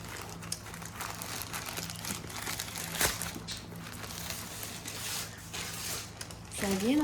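A parcel wrapped in a garbage-style plastic bag is torn open nearby, giving off soft, continuous crinkling and rustling, with a sharper rip partway through.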